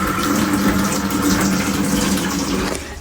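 Water runs steadily from a tap in a freshly rebuilt household water system, a continuous close hiss and splash that holds even for about three seconds before cutting off.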